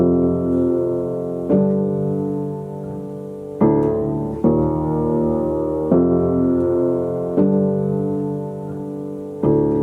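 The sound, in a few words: piano playing bass notes with perfect fifths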